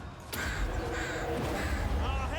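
Crows caw repeatedly in the Total War: Warhammer 2 battle game, a few harsh calls over a steady bed of battle noise, with a voice faintly underneath.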